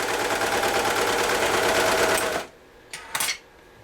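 A Janome Desire 3 coverstitch machine runs fast through stretchy fabric, a loud dense whirr that stops abruptly, followed by a couple of brief mechanical clicks and handling noises in near silence.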